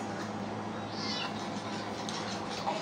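A cat meows in a home, a soft, fairly faint cry heard over steady room hum and background noise.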